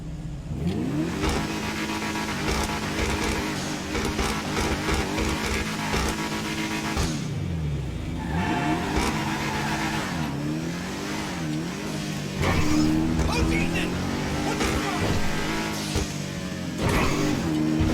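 Albany V-STR engine in GTA 5 revs and accelerates repeatedly, its mid-pitched roar sweeping up and down through gear changes, loud and close for the whole stretch with no talking.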